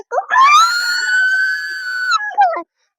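A voice imitates a rooster crowing: one long, loud, drawn-out high call rising and holding steady, then a brief falling tail at the end.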